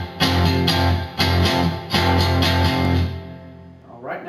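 Electric guitar plays the riff of a song, a few strummed chord hits in a steady rhythm, loud and close, with the last chord ringing out and fading.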